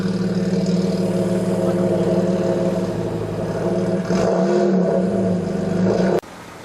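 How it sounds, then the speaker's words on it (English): A 3-litre 1988 Alfa Romeo GTV runs steadily at a classic car show, its engine a strong, continuous hum with a slight rise in revs near the end before the sound cuts abruptly. "The nice 1988 Alfa Romeo GTV with a 3-litre engine"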